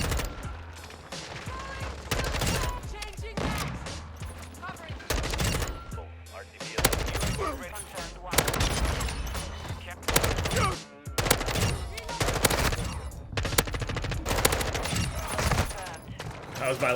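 SMG gunfire in a first-person shooter game, rapid automatic bursts repeating in dense clusters with short pauses between, loud and close, with a voice talking over parts of it.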